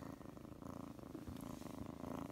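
A kitten purrs softly and very close, a steady rhythmic rumble of in-and-out breaths, quiet and alone with no talking.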